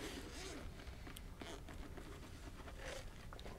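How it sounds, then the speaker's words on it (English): A drone carrying case being unzipped, with short scraping zipper pulls and soft handling rustles, fairly faint and close, no talking. "All right, open up with the zippers."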